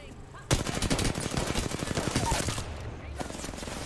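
Rapid video game gunfire from outside, a loud burst of automatic shots in a fast rhythm lasting a couple of seconds before tapering off.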